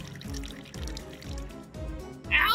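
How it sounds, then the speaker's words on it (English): Wine poured onto bait in the video game Return to Shironagasu Island: a liquid splash and trickle rises at the end, over a repeating low musical thump from the game's soundtrack. "There's still some wine left, so I'll pour it onto the bait."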